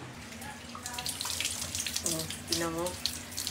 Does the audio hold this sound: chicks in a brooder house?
no